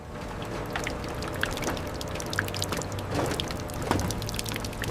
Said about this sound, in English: Spinning at high speeds to extract every drop. Pure liquid gold flowing perfectly.